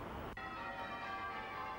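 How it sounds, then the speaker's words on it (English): Church bells across London ring in the new millennium, a dense wash of sustained metallic tones with a sharp strike near the start, steady and fairly loud throughout. "when the bells of London heralded in the new millennium"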